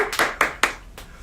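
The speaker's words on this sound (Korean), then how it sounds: "박수." Four crisp hand claps, close and evenly spaced, come from an audience at a film screening talk.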